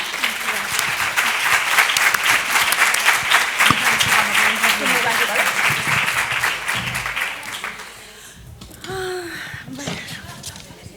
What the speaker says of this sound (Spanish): pedir un fuerte aplauso para Holanda